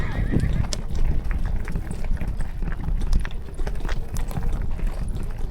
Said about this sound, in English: that was the horse neighing